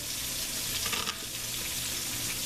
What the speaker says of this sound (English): Peppers are in there cooking.